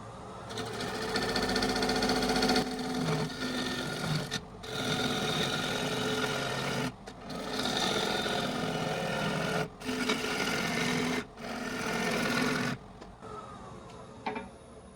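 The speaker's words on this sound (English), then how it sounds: "It cuts beautifully once you get the tool riding the bevel." Woodturning tool cutting a wooden bowl on a lathe, a loud continuous scraping hiss broken by several short pauses as the cut stops and restarts, close up with no talk.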